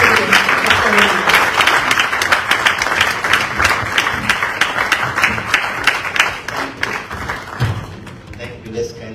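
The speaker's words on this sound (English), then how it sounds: "a warm applause for His Excellency, the President of Sierra Leone." Audience applause for the President of Sierra Leone at a keynote event, a dense, loud burst of many hands clapping that continues steadily before thinning out near the end.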